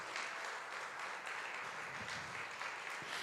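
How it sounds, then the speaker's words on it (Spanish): A congregation at a church service claps together in steady, sustained applause, faint and roomy, with a dense even texture and no speech over it. "Dale un fuerte aplauso a Dios"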